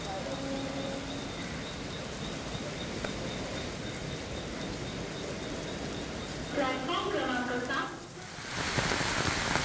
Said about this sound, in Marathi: ठाण्यात रात्रीपासून पावसाची संततधार सुरू असल्याचं बघायला आहे